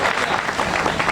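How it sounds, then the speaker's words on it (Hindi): Audience clapping at a Hindi comedy poetry show, a short dense burst of applause from a seated crowd. "ताली बजा दीजिए।"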